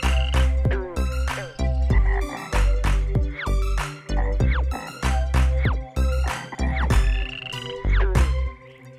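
A children's nursery rhyme with a sung imitation of a green frog's ribbit, repeated croaky vocal calls set over a bright, steady musical backing in an energetic rhythm.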